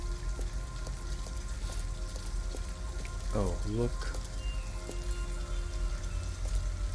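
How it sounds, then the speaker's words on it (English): Steady rain falls outside an abandoned house in the video game Detroit: Become Human, a constant patter under a brief spoken line, with a faint bird-like call in the middle. "At least we'd be out of the rain."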